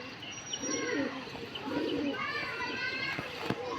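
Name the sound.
pigeons cooing at their perch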